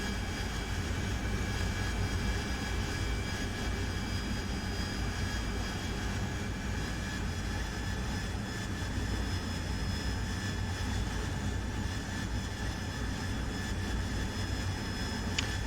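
A jet aircraft engine in the DCS World flight simulator roars continuously with a steady high whine, loud and close, with no talking over it.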